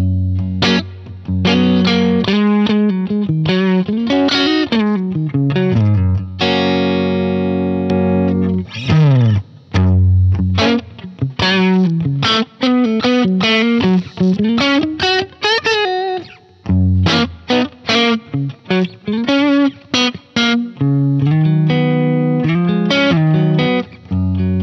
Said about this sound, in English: let's try the semi-hollow Tele with TV Jones Magnetrons into like a Deluxe reverb using the Drive-Thru